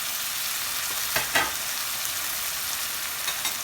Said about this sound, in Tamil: பொடி, மல்லிப்பொடி, மஞ்சப்பொடி இதெல்லாம் போட்டு கலக்கணும்.